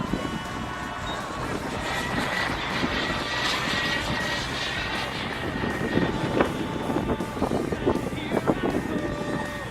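A model MB-339 jet aircraft flying and climbing with half flaps, its steady whining engine roar holding level and continuous at a moderate distance, with faint wind noise.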